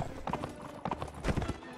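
Horse hooves clip-clop in the Mount & Blade battle game, several quick uneven clusters of hoofbeats from mounted troops, fairly faint and a little distant.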